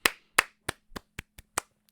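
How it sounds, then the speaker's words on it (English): A single pair of hands claps about seven times in a slightly uneven rhythm. The claps are sharp and close, with quiet between them. "Huge round of applause for Mr."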